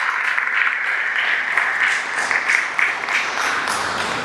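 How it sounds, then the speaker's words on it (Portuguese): A church congregation applauds together, a steady dense wash of many hands clapping that holds evenly throughout, with no talk over it. "Quero te convidar a aplaudir essa palavra"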